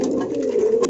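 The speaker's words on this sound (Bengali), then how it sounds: "এই দুইটা কবুতর বিয়ার্ড ডাকতেছে" A pair of bearded fancy pigeons cooing close by, with a steady, low, throaty murmur that rolls on without a break.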